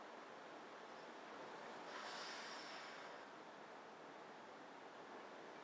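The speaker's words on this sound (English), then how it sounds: "And today it's wicked windy." Strong, gusty wind across an open sod farm, a steady roaring rush with a brief swell in the middle, buffeting the microphone with no voices heard.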